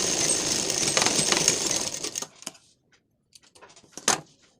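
A sewing machine stitches a lined blouse in a loud, continuous rattling run that stops after about two seconds, followed by scattered light clicks and taps of fabric handling and a sharp knock near the end.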